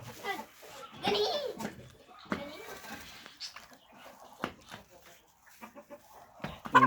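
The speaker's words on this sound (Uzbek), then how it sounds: "Mana xo'rozlarimiz ham keldi" Newly arrived roosters, one small, two large white and three red, give scattered clucks and squawking calls at close range in bursts of varying loudness, with a person's voice at times.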